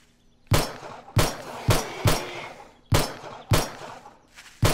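Gunshots from the video game 7 Days to Die, about seven sharp separate shots spaced unevenly over a few seconds, each with a short ringing decay, loud and close with no talk.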